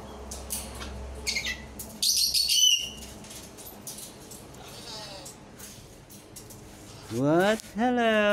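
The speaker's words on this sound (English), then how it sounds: "This one is a cockatoo, also the salmon crested cockatoo." A salmon crested cockatoo gives several loud, harsh squawks and calls that swell near the end, mixed with wing flaps and close human talk.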